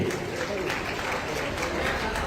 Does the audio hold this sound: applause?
yes